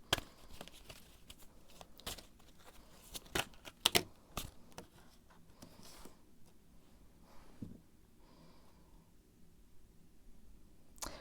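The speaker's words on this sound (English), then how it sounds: "I'm going to shuffle a little bit more" Tarot cards being shuffled by hand, a run of soft papery riffles and flicks that come close and clear in irregular bursts, thinning out toward the end.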